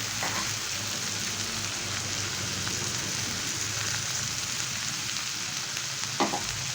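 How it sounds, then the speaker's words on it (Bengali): Prawns fry in a pan with coriander leaves and salt, giving a steady close sizzle and crackle throughout, with occasional stirring scrapes and a brief clatter near the end. "কিছুক্ষণ ভেজে নিতে হবে যাতে চিংড়ি মাছটা একটু ভাজা ভাজা হয়ে যায়"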